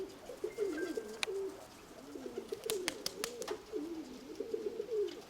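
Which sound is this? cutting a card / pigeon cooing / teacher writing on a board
pigeon cooing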